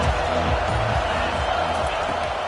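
Stadium crowd in the College Football 25 video game roaring and cheering at the opening kickoff, a dense, steady wall of noise that stays loud and constant throughout.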